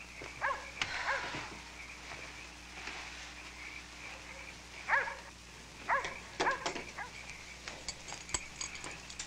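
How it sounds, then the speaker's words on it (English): A dog barks and whimpers in short irregular bursts at moderate distance, with a few clinks and faint background hum between the yaps in a 1978 horror film scene. "if that damn dog has broken through the screen again, that's it."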